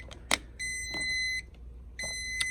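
A Jomgand JW401 jump starter beeps twice with long steady electronic tones, mixed with a few clicks and handling knocks nearby.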